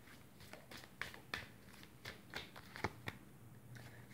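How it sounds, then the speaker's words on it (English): A deck of tarot-style cards riffled and shuffled in a quiet room, a series of crisp papery bursts and snaps at irregular intervals, close and moderately soft, with no talking. "Let's see one card from this deck."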